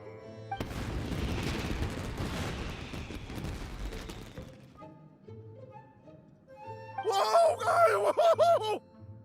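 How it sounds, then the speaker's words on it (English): Fireworks bursting in a video game, a dense crackling, booming barrage that fades into calm game tones, followed by a bright sparkling shimmer of bursts. "Yoimiya, this is turning into a bit of a fireworks display."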